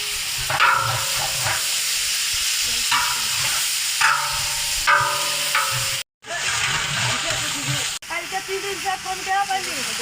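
Onion frying in oil in a pan for khichuri, a steady sizzle with stirring scrapes running throughout, briefly cutting out midway, while a voice talks intermittently over the cooking.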